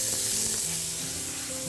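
Onion sizzling in butter in a pan, with a steady close frying hiss and faint low scraping underneath, no voices.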